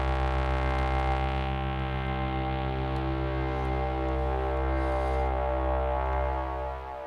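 A sustained synth tone from the Output Arcade sample instrument drones steadily with rich stacked harmonics, its tone and reverb shifting gradually before it fades slightly at the end; no voices.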